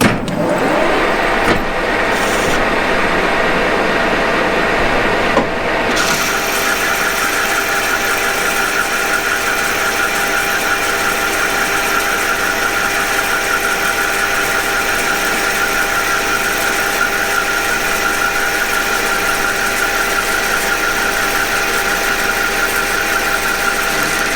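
A metal lathe takes a 5 mm deep turning cut, a loud steady machining drone with a constant whine that runs unbroken throughout, after a brief change in tone at the start.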